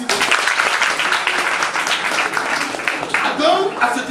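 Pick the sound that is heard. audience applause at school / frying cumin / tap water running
audience applause at school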